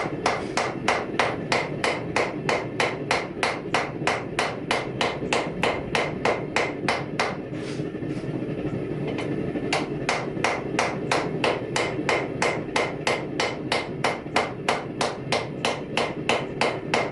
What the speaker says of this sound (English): what I'm doing is I'm just hammering on one side at a time